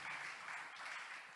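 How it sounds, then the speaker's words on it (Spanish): A church congregation bursts into applause for the Lord, a dense, even roar of many hands clapping together that fills the room and carries on without a break. "¿Cuánto le dan un aplauso al Señor?"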